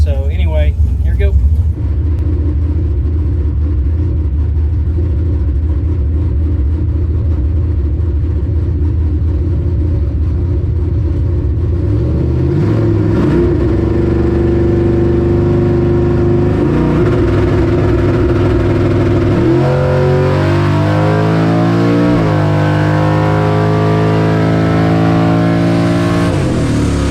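A dragster at night drag racing at Mokan: a loud, close engine roar that climbs in pitch through several gear changes and keeps pulling hard down the track.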